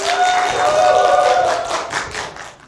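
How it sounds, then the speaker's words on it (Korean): Audience clapping erupts to welcome a speaker onto a stage at a lecture event, a dense burst of many hands that holds steady and then tapers away over a few seconds. "뜨거운 박수로 환영하겠습니다"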